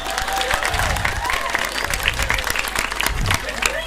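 Audience clapping at a Balinese Calonarang temple performance with comedy, steady dense applause over the full stretch mixed with crowd noise and some voices.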